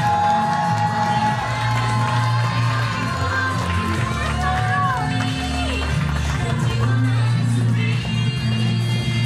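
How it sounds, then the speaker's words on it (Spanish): Crowd at a New York quinceañera party cheers and shouts as the birthday girl is welcomed, with loud music pounding throughout and voices mixed in. "A la festejada, recibamos con ese aplauso"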